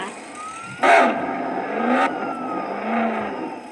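A car drives in the Roblox Jailbreak video game, a steady engine hum with rising revs and a couple of sharp bursts, while someone talks over it.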